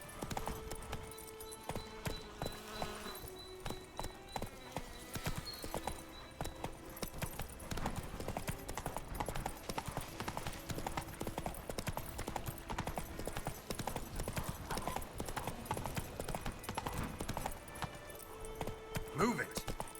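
Roach, the horse in The Witcher 3, trots with steady rhythmic clip-clop hoofbeats amid game music and ambience, while a voice speaks over them at times.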